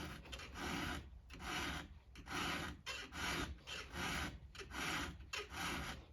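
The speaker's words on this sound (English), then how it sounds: "I'll choke up on this file and only use just a little bit of it." A 7/32 round file rasps across the chain of a Stihl 462 chainsaw in short repeated strokes, about seven close, quiet scrapes separated by brief pauses.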